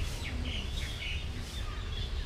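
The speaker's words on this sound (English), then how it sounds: "she sells these little birds in the cage" Small caged birds at a Buddhist temple in Thailand chirp in quick, high, thin tweets. The calls sound faint and moderately distant over steady background noise.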